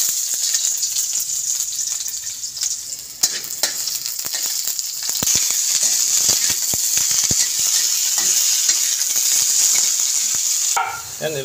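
Eggs sizzling steadily in a hot pan with bitter melon (ampalaya), occasional scraping and stirring clicks from a utensil cutting through the continuous close frying hiss.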